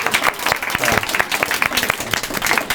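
A seated audience at a high school sophomore story slam gives a brief, lively round of applause, close and fairly loud with some individual claps standing out and a few voices mixed in.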